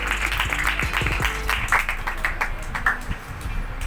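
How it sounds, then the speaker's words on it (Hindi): Pentecostal church congregation clapping for Father's Day, a scattered patter of many hands in an indoor hall, steady and moderate, with bits of voices mixed in. "आइए जोरदार तालियों से सेलिब्रेट"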